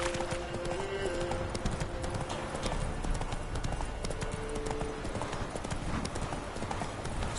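Roach, the horse in The Witcher 3, gallops with a dense, steady clatter of hooves, close and loud throughout, under game ambience and brief voices.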